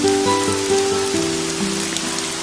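Rain falls in a steady, close wash of droplets and stays fairly loud throughout, with a few faint steady tones beneath it and no voices.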